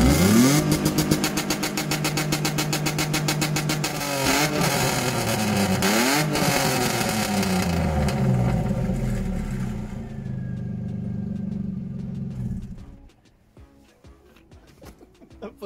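A used Jaguar S-Type with a tired second gear accelerates hard, its engine revving loudly and rising in pitch through several gear changes before the drive fades and quiets near the end, with no voices.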